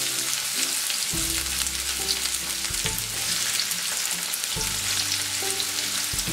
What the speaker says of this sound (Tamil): இப்போ வந்து கடாயில் நல்லா எண்ணெய் காஞ்சிச்சு. ஃபர்ஸ்ட் கட் பண்ணி வச்ச பூண்டு சேர்த்துக்கலாம்